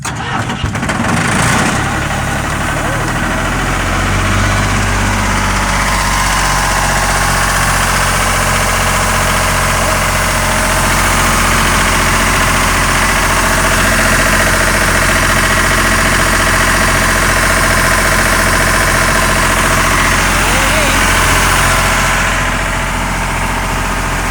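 An engine-driven compressor without glow plugs cranks over on a Ryobi jump pack, catches within a couple of seconds, then runs at a loud, steady, rumbling idle for the rest of the time.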